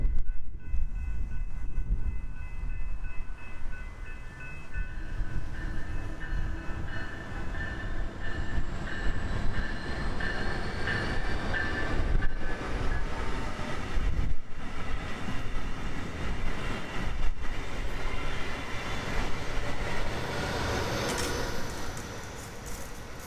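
Northbound passenger train 720 rolls into West Palm Beach station on the East Main, a loud continuous rumble of wheels and engine that swells and holds steady, with faint squeals and clatter over the run.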